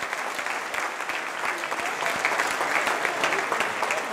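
Audience applause at an Asturian song concert, a full, steady crowd clapping with distinct individual claps standing out, continuing without a break for several seconds.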